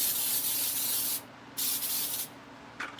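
Cooking spray hisses onto a hot waffle iron before loaded waffle potatoes go in, heard as two close, steady bursts of spray separated by a short pause, with a brief fainter puff at the end.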